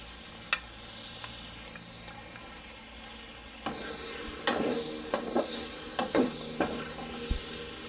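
Onion and garlic frying in a pan at home: a steady sizzle runs throughout, broken by scattered clicks and scrapes of stirring that grow busier in the second half.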